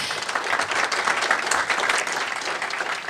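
An audience at a Hall of Distinction induction ceremony claps steadily, a full, even burst of applause lasting a few seconds, loud and without speech over it.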